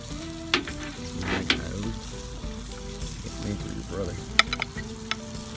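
Strip steak and octopus searing on an Old Smokey charcoal grill, a close, steady sizzle with sharp crackles and pops, while someone talks over it.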